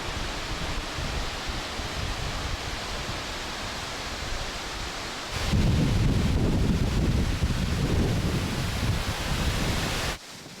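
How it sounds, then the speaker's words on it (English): Shaki waterfall in Armenia, whose flow is normally diverted for hydroelectric power, gives a continuous broadband roar of falling water mixed with wind buffeting. It swells noticeably louder partway through, then cuts off abruptly near the end. "This is the Shakti waterfall,"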